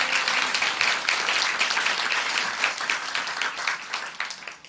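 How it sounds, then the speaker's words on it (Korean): A church congregation claps enthusiastically, a dense sustained applause with scattered sharp claps, loud and steady throughout. "우리 하나님께 영광의 박수 한번 올려드릴까요?"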